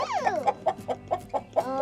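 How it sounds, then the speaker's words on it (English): Chickens clucking nearby, a quick string of about six or seven short, evenly spaced clucks in under two seconds, fairly faint, opening with a brief rising squawk. "Do you like the chickens, Ivy?"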